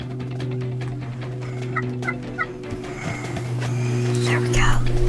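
Wild turkey gobblers answer in the woods during a turkey hunt, a few brief distant gobbles sounding over soft whispered talk and rustling nearby.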